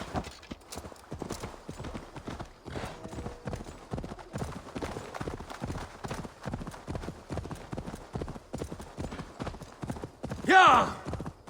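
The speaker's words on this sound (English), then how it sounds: "Horsey." Horse hooves clip-clop at a steady rhythm throughout in the game Assassin's Creed Valhalla (The Siege of Paris expansion), with game ambience, speech and a brief whinny-like burst near the end.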